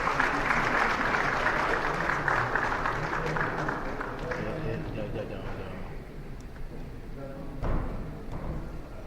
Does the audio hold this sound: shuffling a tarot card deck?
no